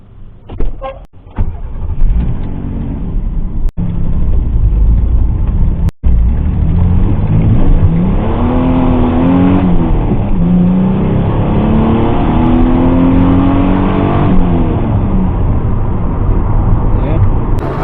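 A Pontiac Fiero GT fitted with a Jet stage 2 performance chip accelerates hard, its engine roar loud and close inside the cabin and rising steadily in pitch through the gears after a few clicks at the start.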